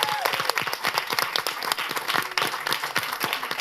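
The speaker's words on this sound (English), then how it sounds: "round of applause for our panelists" An audience at a women's business and leadership panel discussion in Union Township applauds its panelists, a lively stretch of many distinct hand claps that stays fairly loud and even without anyone speaking.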